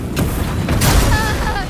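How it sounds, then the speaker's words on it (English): A fire explosion attack in Expedition 33 booms with a heavy, rumbling blast followed by a second surge, loud and close, with a voice speaking over it. "here's the fire explosion"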